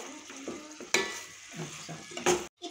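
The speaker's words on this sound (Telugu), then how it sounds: "ఇలా సైడ్ పట్టుకొని ఇప్పుడు చికెన్ వేస్తున్నాం" Chicken pieces tipped into a hot pan of a chicken pulusu base and stirred, giving a steady sizzle with scraping and stirring strokes, a couple of louder clatters, then a brief cut to quiet at the end.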